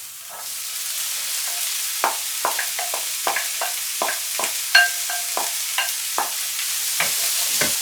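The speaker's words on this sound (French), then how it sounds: "On fait revenir le tout. On ajoute ensuite les poivrons." Bell peppers sauté in a pan with a steady sizzling hiss, broken by repeated scraping and stirring strokes of a utensil at an irregular pace, close up.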